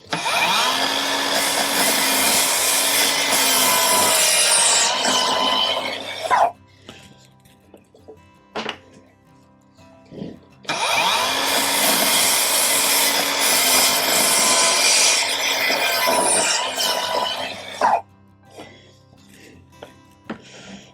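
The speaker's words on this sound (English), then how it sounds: "So let's fire it up and go make a cut." A RIDGID 18V cordless 7 1/4 inch mitre saw (R48607B) cuts through a wooden board in two loud, sustained passes, each with a whining motor and rasping blade, separated by a quieter pause with faint clicks.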